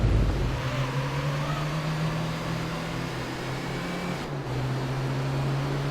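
The small Toyota Vitz/Yaris R engine in Gran Turismo 3 holds a loud, steady high-rev drone close by, briefly dipping and then returning to the same pitch, with no one talking.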